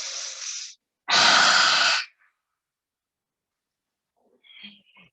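Slow, deep yoga breaths come close to the mic: a breath, a pause, then a long, full inhale lasting about a second, followed by quiet.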